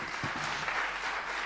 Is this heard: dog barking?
no